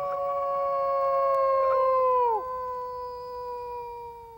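A pack of wolves howls back in reply, with several long, steady, overlapping howls that hold their pitch, slide downward together and then fade out.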